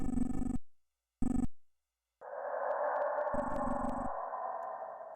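A generator in a horror video game starts up: two short loud buzzing tones, then a steady electrical hum that settles in and continues, with a brief buzz layered over it.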